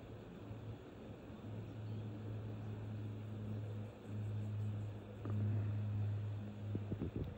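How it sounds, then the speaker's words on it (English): A small plane drones overhead at night over Sydney, a faint, steady low engine hum that swells slightly and fades slightly, with light wind noise. "it sounds like a small plane"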